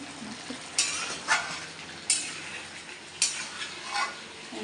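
Mutton braising in a pot and stirred with a utensil, three distinct scraping strokes roughly a second apart over a steady low simmering hiss, close and moderately loud.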